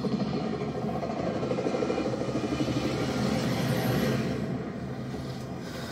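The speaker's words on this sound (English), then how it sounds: "Oh, I just saw a heli." A helicopter in the video game Call of Duty Warzone gives off a continuous rumbling rotor drone that holds steady and fairly loud throughout.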